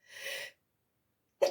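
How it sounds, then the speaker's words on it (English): One person sneezes in two parts, a breathy intake followed after a pause by a sharp, brief sneeze, close and alone in an otherwise silent room. "I want to sneeze now."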